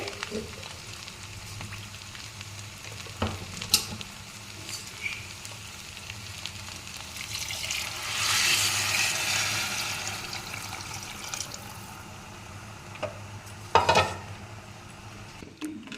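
Water poured into a cooking pot of rice for potato biryani, heard as a swelling wash of pouring midway through, with scattered clinks and stirring noises around it in a quiet kitchen.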